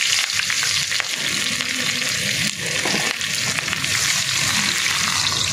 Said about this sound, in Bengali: এটা একটু লাল লাল হয়ে ভাজা হবে